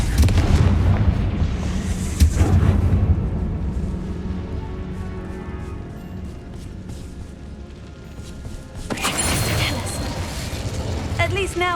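A Confringo fire spell bursts in Hogwarts Legacy inside a tomb, a loud boom with crackling debris partway through, surrounded by dense game music and ambience, with a second burst of noise near the end.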